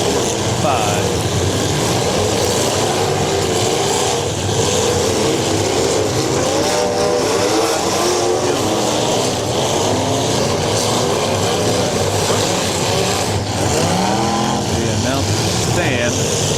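Demolition derby car engines run and rev in a constant loud din, with rising and falling engine whines over crowd noise, while an announcer talks over it.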